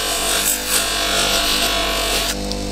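Polishing wheel buffing a travisher blade loaded with polishing compound, a loud close continuous motor hum with a rough rubbing hiss that swells and eases as the blade is pressed on.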